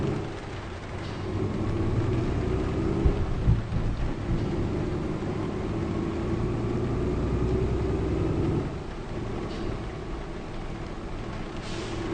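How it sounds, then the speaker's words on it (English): Steady rain and rumbling thunder from the Euro Truck Simulator 2 video game fill the scene with a continuous dense hiss, a low roll of thunder and a sharp crack near the middle, with no voices. "I really, really like those rain sounds at the moment."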